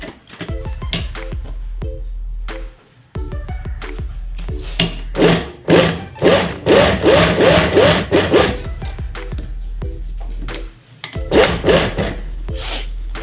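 A tailor's sewing machine stitches a secret front pocket on cloth, running in bursts of fast, rhythmic chattering with brief pauses between runs, close and fairly loud.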